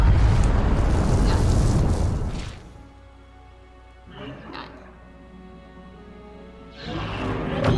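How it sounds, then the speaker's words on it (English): Artillery shells strike in Star Wars Battlefront 2, a heavy rumbling blast that fades into a quieter tail, followed by a smaller burst and another rising explosion at the end, with a voice speaking over the din. "Artillery! Fire when ready!"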